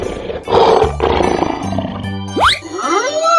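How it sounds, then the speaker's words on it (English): A cartoon lion lets out a loud, close roar over bright, busy children's cartoon music, with a springy sound effect sweeping up partway through. "Lion."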